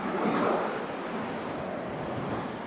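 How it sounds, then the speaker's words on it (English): Large North Sea waves breaking on the beach at Hornsea, a loud continuous roar of surf with a swelling crash near the start, mixed with wind noise and no voices. "Those waves are huge."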